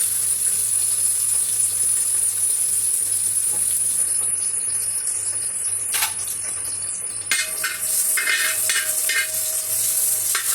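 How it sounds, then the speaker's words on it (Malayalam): Onions sizzle steadily in hot ghee, a close, continuous crackle with a few stirring scrapes partway through. "ചൂടായതിന് ശേഷം നമുക്ക് സവോള ഇച്ചിരി വറുത്തെടുക്കാം"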